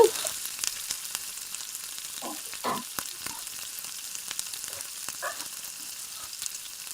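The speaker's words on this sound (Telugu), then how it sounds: "పది నిమిషాలు వేగాక తిప్పుకుందాం మొక్కలు తిరగేస్తున్నానండి" Pieces of fish hiss steadily as they fry in a pan, with a few close scraping knocks and clatters as they are flipped over the continuous sizzle.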